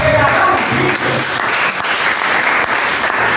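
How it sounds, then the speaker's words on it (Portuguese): Congregation in a church clapping loudly and continuously, a dense wash of handclaps filling the room with a few voices mixed in. "Você pode aplaudir ao Senhor bem forte?"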